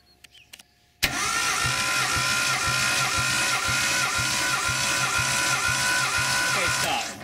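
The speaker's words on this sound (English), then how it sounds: "we're gonna do the compression test on cylinder number three." An RB20DET engine cranks steadily on the starter during a compression test of cylinder three, a rapid regular chugging rhythm that starts abruptly after a moment of quiet and runs loud and close for about six seconds.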